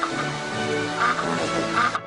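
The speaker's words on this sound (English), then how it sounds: "a novelty app that makes it emit the sound of a farting duck." A novelty phone app plays a comic farting-duck noise: a buzzy, quacking blare that runs almost without a break for about two seconds, close and fairly loud, then cuts off abruptly.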